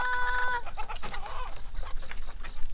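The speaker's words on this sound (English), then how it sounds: "we're going to watch as you turn those chickens out" Farm chickens clucking and squawking close by as they are turned out of their coop, a busy overlapping flurry of calls with a brief whistle-like tone at the start.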